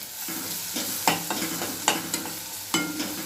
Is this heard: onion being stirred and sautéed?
yes